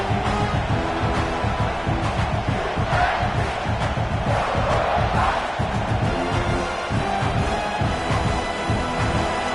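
A football stadium crowd roars continuously as the home fans try to unsettle the visiting team, a loud, dense wall of cheering and shouting with no single voice standing out.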